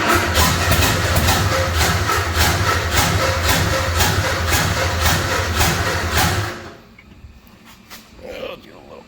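A 1955 Ford engine cranks and catches, running as a loud, rough rhythmic chug for several seconds before cutting off abruptly, with quieter sounds trailing after.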